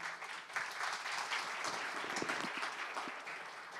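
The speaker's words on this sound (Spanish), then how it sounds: "Recibámosla con un aplauso, por favor." Conference audience applauding to welcome a speaker, a sustained burst of many hands clapping together, steady and fairly distant, lasting the whole few seconds.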